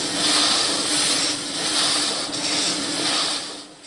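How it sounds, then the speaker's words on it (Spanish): Antique piston engines run together in an engine museum in Vista, California, a loud, dense, steady mechanical roar that swells and eases slightly. "Pero su sonido llena el Museo de Motores Antiguos en Vista, California, cerca de San Diego, donde hay docenas de máquinas funcionando"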